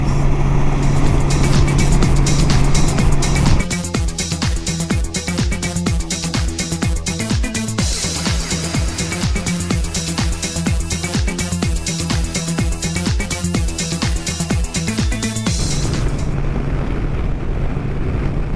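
Steady roar of wind and road noise from a moving motorcycle, loud and continuous, with an engine drone and a rhythmic musical pulse running through the middle.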